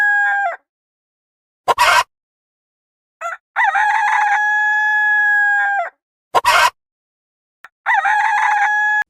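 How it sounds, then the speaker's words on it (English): A farmyard rooster crows loudly and clearly, two full cock-a-doodle-doo calls with a sustained, ringing final note, separated by short sharp bursts of clucking noise and brief silences. "Chicken."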